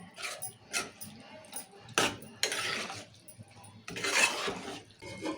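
Chili powder, salt and turmeric being stirred into oil in a pan while cooking a ridge-gourd curry, with scattered scraping, clinking spoon strokes and soft sizzling bursts close by, in uneven pulses.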